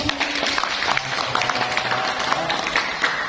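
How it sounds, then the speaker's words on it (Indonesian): Audience members at a religious youth lecture clap their hands together in a dense, continuous patter, moderately loud and close, with faint voices underneath. "Tepuk tangan dulu."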